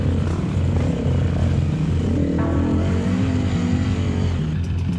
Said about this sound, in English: they finally got Adrian the pin-up boy's bike up and running